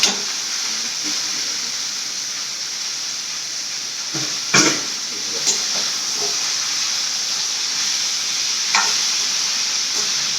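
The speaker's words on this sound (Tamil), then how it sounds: "தோசை ஊற்றிக்கலாம்." Dosa batter sizzling on a hot pan gives a steady, bright hiss throughout, with a few faint clinks and taps from utensils and no talk.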